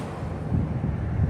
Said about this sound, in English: I just had that sudden gust,